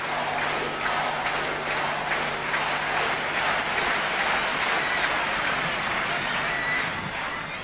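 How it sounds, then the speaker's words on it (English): A packed tennis crowd at the 1992 Roland Garros women's final between Seles and Graf roars and applauds steadily, with rhythmic clapping pulses throughout. "Listen to the crowd."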